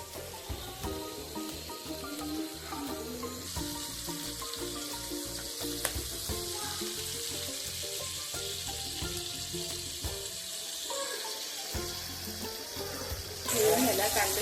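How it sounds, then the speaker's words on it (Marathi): Chicken frying in a pan with a continuous close sizzle and crackle, some stirring and faint background voices, and a watery hiss swelling at the end. "असे हे फ्राय करून घ्यायचे चांगली शिजेपर्यंत"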